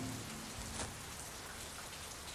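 Steady rain in an animated cartoon patters on a surface, a soft continuous hiss of drops with no voices.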